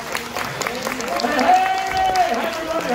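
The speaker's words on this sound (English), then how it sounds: "how about a nice round of applause for the host of today's show?" An audience at Universal Orlando's Horror Make-Up Show claps and cheers for the host, a moderate, steady patter of hands mixed with crowd noise and a voice over the top.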